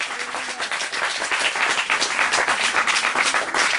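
Strong applause from a church congregation, many hands clapping in a loud, dense, continuous roll that stays steady throughout, with no speech on top.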